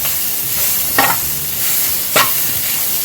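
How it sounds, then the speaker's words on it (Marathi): Grated coconut roasting in ghee on a low flame, a soft continuous sizzle with two brief scraping strokes of a spoon stirring it, close by and without talk. "आपलं खोबरं किसलेलं आहे ना ते घालून घेते आता हे मंद आचेवर आपण परतवून घ्यायचं आहे खोबरं"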